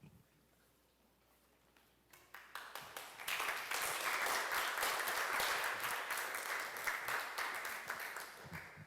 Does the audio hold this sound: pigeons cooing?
no